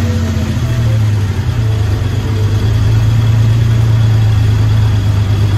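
A DIY-overhauled engine idling steadily and close, a low, even hum with a faint regular pulse that holds at the same loud level the whole way through, with no talk over it.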